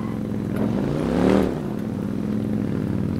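A motorcycle engine in the video game Watch Dogs hums steadily, swelling as it revs up briefly in the middle before settling back to a constant drone.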